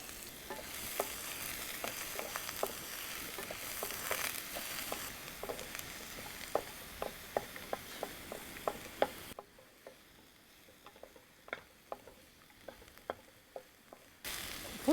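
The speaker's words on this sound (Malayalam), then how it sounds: "അടുത്ത് പച്ചമുളക്, അടുത്ത് സവാള ഇട്ട് വശക്കാം" Green chilies and onion sautéing in a pan for an irumban puli (bilimbi) thoran: a steady close sizzle punctuated by regular spatula taps and scrapes, with the sizzle dropping quieter partway through while the stirring clicks continue.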